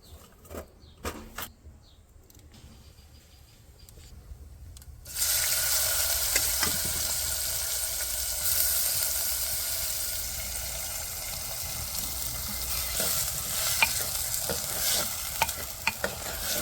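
After a few quiet knocks, cumin seeds and asafoetida hit hot oil and burst into a loud, steady sizzle that keeps going, with occasional scraping taps from a stirring spoon.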